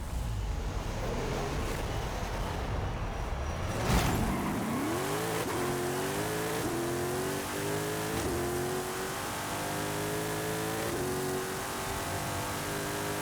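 A car in Forza Horizon 5 launches hard from a standstill, a loud rough engine roar that climbs in pitch through first gear, eases at a shift, then keeps building as it accelerates.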